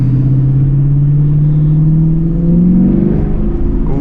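A 2020 Camaro SS 1LE engine with a K&N intake revs up close by, a deep throaty rumble rising steadily in pitch over a few seconds, with no talking.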